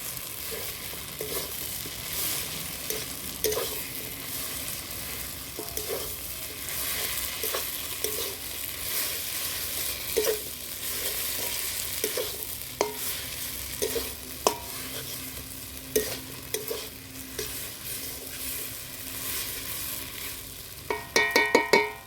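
Fried fritters are stirred into a cabbage curry in a sizzling pan, with a constant frying hiss and repeated soft scraping strokes of the spoon throughout.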